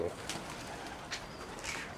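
Pigeons kept by a Turkish pigeon fancier give a few soft, faint coos with short pauses between them, set against a quiet outdoor background.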